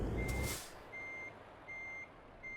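Reversing alarm on trucks, steady evenly spaced high beeps sounding at moderate distance after a brief burst of broadband noise at the start, with no talking.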